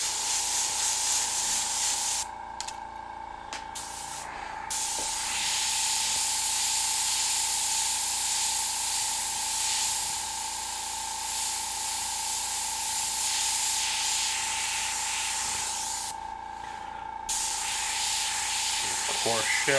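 An airbrush sprays paint onto a skull at high pressure with the trigger pulled fully back. A steady, close hiss runs throughout and cuts out briefly twice, with no talking.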